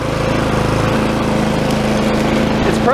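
A Honda lawn mower runs steadily through a fall cleanup, its engine droning loud and close with a constant hum and no talking over it.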